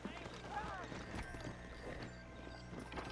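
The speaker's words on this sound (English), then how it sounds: "Oh, no, I hit a horse." Horse hooves clop in the Western game Red Dead Redemption: quiet, uneven hoofbeats with a brief whinny-like cry early on, and someone talks over them.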